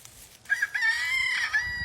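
An olive egger rooster crows once, a loud, close, drawn-out call lasting over a second with no talk over it.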